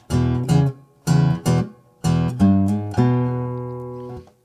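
Acoustic guitar strums a shuffling blues rhythm in short paired bursts, ending on a ringing, sustained chord; played alone and close.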